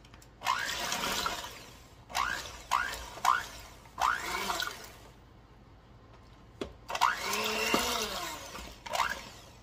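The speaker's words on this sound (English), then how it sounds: "Somebody asked me the other day why I didn't start out my mixer on low, and that is low." An electric mixer running on low through sweet potato pie batter, whirring in several separate bursts of a second or two each, broken by short pauses, fairly close and loud.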